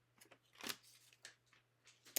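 Scissors trim a paper bow die-cut, a few quiet, crisp snips spaced irregularly, with faint paper rustle between the cuts in an otherwise quiet room.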